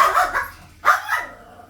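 Indoor dogs barking at a closed door, two loud sharp bark bursts close by with a short gap between them, no speech over them.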